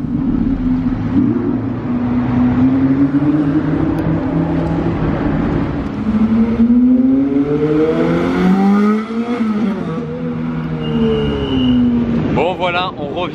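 Audi R8 V10 with 670 hp launching on launch control in Monaco, the engine roaring loudly as it climbs through the gears with rising pitch, then fading as other traffic is heard.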